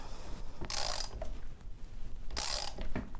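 A chain breaker tool being tightened down on the rivets of a Kawasaki Ninja 650 motorcycle chain gives two short, close ratcheting clicks about a second and a half apart, with quiet mechanical handling between them.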